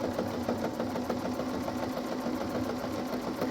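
A sewing machine stitching up the sides of a fabric altar pad basket, the bottom lifted against the machine, runs in a steady, fast, continuous whir at close range with no talking.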